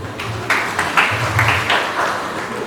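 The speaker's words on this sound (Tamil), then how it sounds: "ஒரு கைத்தட்டு கொடுங்க." Guests at a church wedding reception clapping, a bright patter of hands in several uneven bursts, moderately close, with a low murmur of crowd underneath.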